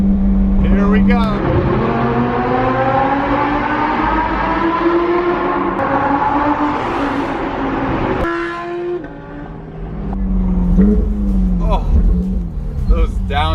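A Lamborghini Huracan accelerates hard through an underpass, loud engine notes climbing through the gears with quick downshift blips and a brief dip before the revs surge again, a voice speaking over it.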